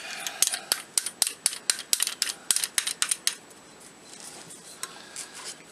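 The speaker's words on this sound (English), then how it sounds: "I'm going to install the barrel nut." Rifle barrel nut being fitted into a trunnion assembly, a rapid series of sharp metallic clicks and ratcheting ticks, close and crisp, thinning into quieter scraping handling noise toward the end.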